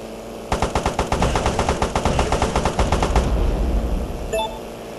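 A machine gun fires in the aerial combat game Airfrix Dogfighter, a fast rapid rattle of evenly spaced shots lasting about three seconds and then stopping, followed by brief high electronic blips.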